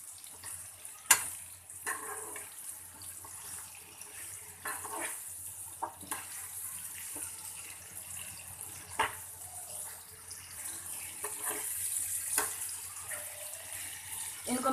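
Pumpkin sabzi is stirred in a pan over a gas flame, with a soft sizzle and scattered scraping knocks from a spoon, fairly quiet and with no talking.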